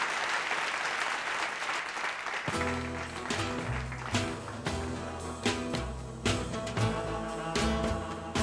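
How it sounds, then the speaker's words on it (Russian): A crowd applauds steadily as a band walks on stage at a concert, and loud band music with drums kicks in about a third of the way through, carrying on over the fading clapping. "ваши аплодисменты!"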